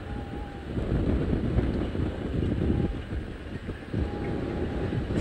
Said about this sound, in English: now we're in like a vortex of wind